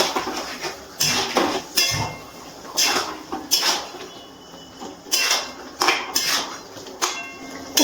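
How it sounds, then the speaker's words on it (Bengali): A utensil stirs jackfruit and prawn curry in a metal pan, with repeated clanks and scrapes in irregular bursts, close and fairly loud, and quieter stirring between them. "এবার খুব ভালো করে সব কিছু মিশিয়ে নিচ্ছি।"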